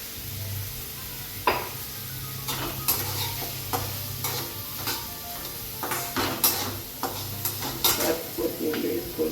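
Okra (bhendi) roasting in a pan with turmeric, a soft steady sizzle under repeated scraping and stirring clinks of a spatula against the pan, close by with no talk.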